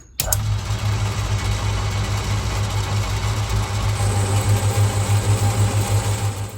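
Myford ML7 metal lathe running while taking a cut about ten thou deep, starting with a click and then holding a steady, close mechanical hum with a slight rhythmic pulsing throughout.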